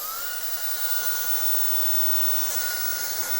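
A hair dryer blows steadily and close while hair is styled with a round brush at the roots, a constant full airflow roar with no talking.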